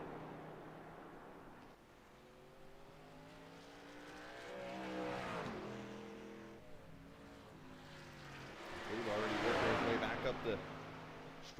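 Race truck engine in a NORA Truck Series 250 race on a road course, droning with rising and falling pitch as it runs the final corners and straightaway, building louder toward the end under ongoing commentary.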